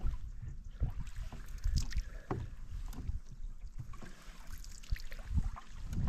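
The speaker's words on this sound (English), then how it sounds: "I guess I better help paddling" Paddles dipping and pulling through water as a canoe moves down a narrow channel toward Ramsey Lake, with steady splashy strokes and gurgles under a constant rush of wind on the microphone, close by.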